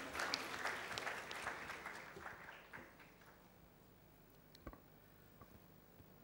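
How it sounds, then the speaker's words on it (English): Applause from a large audience at a tech keynote session, dense clapping loud at first and fading over several seconds to a thin, scattered patter with a few isolated claps. "Let's welcome him with a huge round of applause"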